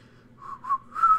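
A person tries to whistle, producing a few thin, breathy whistle tones that waver and break off, with a longer steadier note at the end, close and alone.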